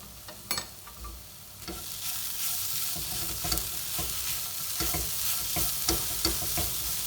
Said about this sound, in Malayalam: ഈ ഉരുളക്കിഴങ്ങ് ഇതുമായിട്ട് നന്നായിട്ട് മിക്സ് ആവണം